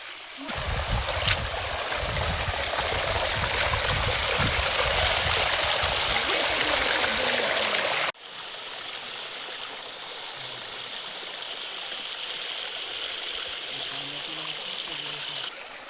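A mountain stream of clean water runs over slippery rocks, a loud close rushing and gurgling for about eight seconds, then a quieter, more distant steady flow with faint sounds.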